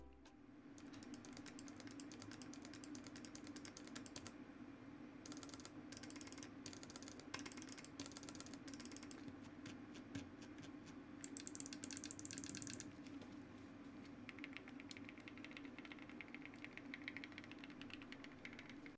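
Buttons on a SteelSeries Aerox lightweight gaming mouse are pressed over and over, producing quiet, rapid mechanical clicks in bursts and runs against a faint background hiss, with no talking.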